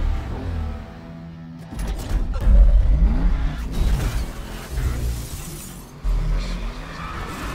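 A car crash in a film scene: tires screech and metal creaks, then a loud impact with shattering debris, followed by a second jolt of clanking wreckage.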